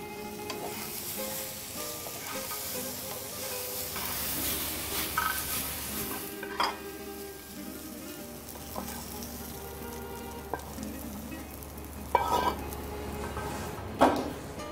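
Bread pieces fry in a pan with vegetable upma under a steady, fairly quiet sizzle and hiss, broken by occasional louder stirring scrapes and clinks.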